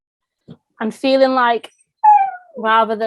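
A dog howls and whimpers in several drawn-out, wavering cries close to the microphone, with short gaps between them. The howls dominate the quiet room.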